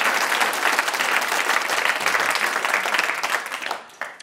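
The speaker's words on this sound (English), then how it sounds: "You can clap it." Studio audience applause on a television panel show, dense and loud clapping sustained for about four seconds before tapering off at the end, with no talk over it.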